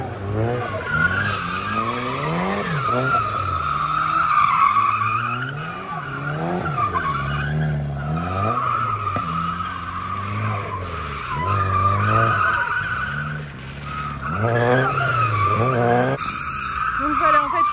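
Cars drifting at a Renault factory event, with repeated loud tire squeals and revving engines rising and falling in waves, close by and continuous, with talk faintly beneath.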